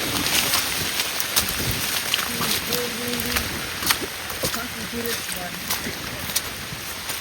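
Steady gusting wind roars across the microphone with rain-like hiss during monsoon rain, and a voice talks faintly underneath.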